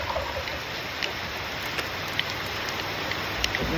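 Heavy rain pours down outdoors beside a newly installed rain barrel, a steady dense hiss with scattered louder drips and splashes throughout.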